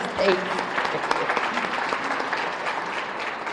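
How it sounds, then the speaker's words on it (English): An awards-event audience gives a sustained round of applause for a chamber of commerce sponsor, the clapping steady and even, with a voice speaking faintly underneath. "Huge round of applause."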